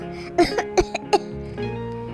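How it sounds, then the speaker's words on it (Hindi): Several sharp coughs from two cartoon women in quick succession, close and fairly loud, followed by a brief low murmur. "दोनों खांसने लगती है"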